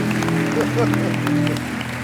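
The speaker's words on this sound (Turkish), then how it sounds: "kocaman bir alkış alalım" A studio audience on a Turkish TV talk show applauds in a sustained, dense clatter of clapping, with voices mixed in over it.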